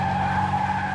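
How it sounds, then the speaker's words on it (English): A sports car skids on an oil slick on the George Washington Bridge: one steady, loud tire squeal with a sustained whine that holds unbroken for about a second. "A dizzying skid on an unseen oil slick."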